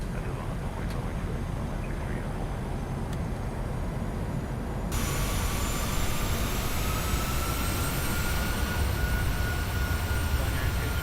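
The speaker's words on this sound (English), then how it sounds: "Select gear down, flaps 15." A PMDG Boeing 737-800 in a flight simulator game lowering its landing gear and setting flaps 15 on approach, a steady loud cockpit engine and air roar that steps up in level halfway through, with a faint rising whine.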